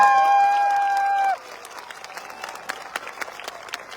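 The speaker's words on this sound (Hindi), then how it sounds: "जोरदार वाली ताली।" A loud held tone plays for over a second at a motivational gathering in Jaisalmer, then gives way to scattered, fairly faint hand claps from an audience for the rest of the clip.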